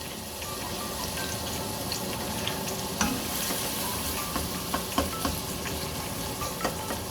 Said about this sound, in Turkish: Soğanlarımızı önce atıyoruz. Soğanları önce kavurduktan sonra